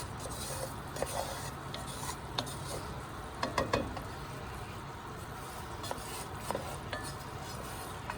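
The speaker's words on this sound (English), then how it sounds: "But you want to keep stirring, adjust your heat so you don't burn it." A spoon scrapes steadily through a roux for Cajun meatball stew in a pot over the heat, a constant low rushing sizzle with occasional sharper clicks and knocks of utensil against the pot.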